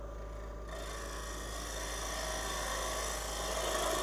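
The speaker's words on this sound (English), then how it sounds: "let's cut the wall of the shoulder" A lathe tool cuts into the wall of a spinning wooden bowl shoulder, a steady rasping, whirring scrape over a constant low motor hum that grows slightly louder and harsher as the cut continues.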